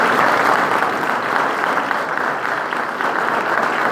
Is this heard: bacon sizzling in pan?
no